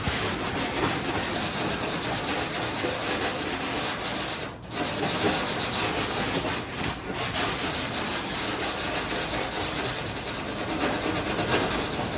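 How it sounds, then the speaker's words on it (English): Glazing putty being worked onto a car body panel makes steady, close, dry scraping and rubbing that continues almost without a break, with one brief pause partway through. "what you guys just seen me do, I put some glazing putty on"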